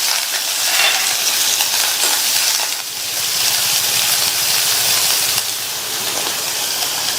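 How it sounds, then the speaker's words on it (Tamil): Chopped onion, dried red chili and curry leaves sauté in oil for beans poriyal, giving a steady, close crackling sizzle that swells and dips a little as it is stirred. "ஒரு சின்ன சைஸ் கட் பண்ண பெரிய வெங்காயம், ஒரு கட் பண்ண காஞ்ச மிளகாய், கருவேப்பிலை, இதை லைட்டாக வதக்கி விட்டுட்டு"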